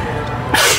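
A single close, abrupt sneeze bursts out at the end of a brief murmur of background sound.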